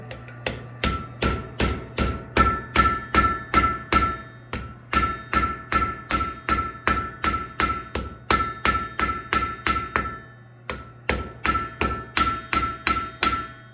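Steady, rhythmic hammer blows ring on a blacksmith's anvil while a forged block lizard's legs are shaped. The ringing strikes come in quick bursts of about a dozen, separated by short pauses, loud and close, with no talking.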